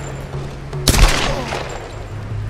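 A single loud, close gunshot rings out in the action video game Tomb Raider, a sharp blast with a reverberant tail over a low steady game hum.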